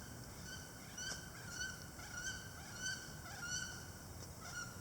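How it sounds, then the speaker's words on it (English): Wood ducks fly past outdoors in a wetland among skunk cabbage, giving a series of repeated squealing, honk-like calls that rise and fade at a moderate distance over a steady background hiss, with no talking. "so some wood ducks just went by"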